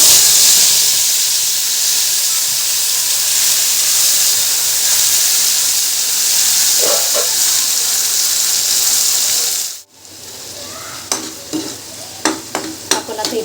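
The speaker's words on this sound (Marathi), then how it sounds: "तेल गरम झालंय तर मी थोडंसं तेजपत्ता टाकते आणि आता हा मसाला वाटलेला तो टाकणार आहे" Ground masala paste goes into hot oil with a bay leaf, hissing in a loud, steady sizzle up close; after a sudden drop it settles into sharper crackles and spatters from the pan, with no talking.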